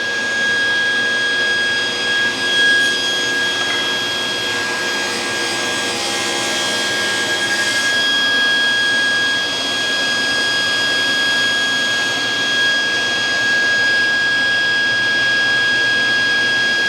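A table saw cutting wood while building a crosscut sled, a loud steady whining roar with a high sustained tone that holds for the whole span, close by and with no talking.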